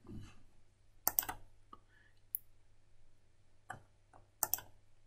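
A few sharp mouse clicks in quiet surroundings while working in Crésus accounting software, faint and close, with light desk noises and a low hum between the clicks.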